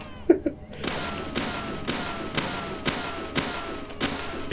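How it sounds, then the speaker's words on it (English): A gun fires in the video game Deadly Premonition: about eight evenly spaced sharp shots ring out in a regular rhythm, loud and close, after a couple of faint knocks at the start. "Shoot it with the gun?"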